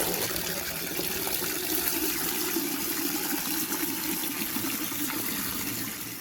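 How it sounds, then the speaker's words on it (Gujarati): Water pours in a continuous steady rush, a full hissing stream that holds evenly for several seconds before easing slightly at the end. "પાણી ડબલું ભરી લઈ એને પાણી નાખી દઈ"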